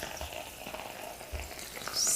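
Onion sizzles and crackles close by in a hot soup pot, a short burst of frying noise that grows louder at the end.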